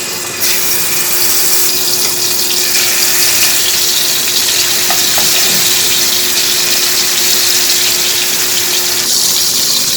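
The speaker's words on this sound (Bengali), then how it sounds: "তেল গরম হয়ে গেছে, এখন মাছ দিয়ে দিচ্ছি।" Katla fish fries in hot oil in a wok, a loud, steady, close hiss of sizzling that runs without a break throughout.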